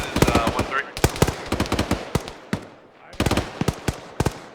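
Simulated gunfire from ArmA 3 during a platoon training battle in a brick-building area: sharp, loud rifle shots and short automatic bursts in irregular clusters, with brief pauses between volleys.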